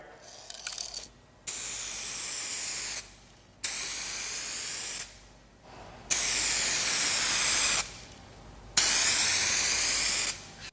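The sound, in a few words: spray gun spraying 2K clear coat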